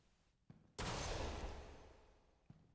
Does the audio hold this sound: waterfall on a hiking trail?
no